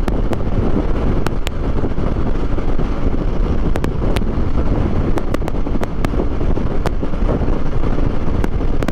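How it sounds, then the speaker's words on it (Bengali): Strong wind buffeting a motorbike rider at speed on the Agra–Lucknow Expressway makes a loud, unbroken roar with scattered sharp clicks throughout. "প্রচণ্ড হাওয়া দিচ্ছে,"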